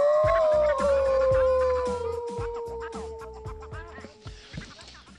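At a freeride skiing event, a man imitates a dog with a long, loud howl that slowly falls in pitch and trails off into quieter background noise.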